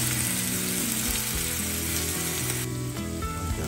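Garlic and onion fry in a pan for a kare kare dish, giving a steady, close sizzle with tonal music playing underneath.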